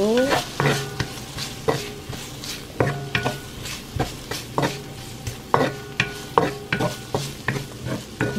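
Pasta frying in oil in a pan for carbonara, with a steady sizzle under repeated sharp clinks and scrapes of a utensil stirring against the pan, close and fairly loud, with no talking.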